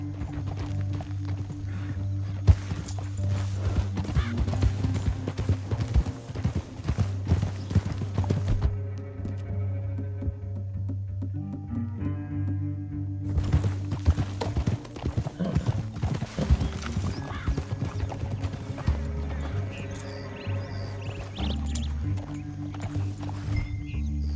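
Horse hooves clip-clop steadily with occasional neighs in Red Dead Redemption 2, riding through a canyon, set against a sustained musical score, loud and continuous.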